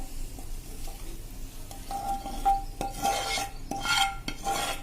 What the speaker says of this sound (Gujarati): હલકો એવો જ આપણે આ રવાને શેકવાનો છે ઘીમાં